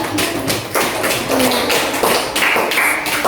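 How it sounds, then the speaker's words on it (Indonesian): Children in a classroom clap their hands together in several quick bursts of rhythmic tapping, with short pauses between rounds and no voices over them. "Iya, tepuk tangan."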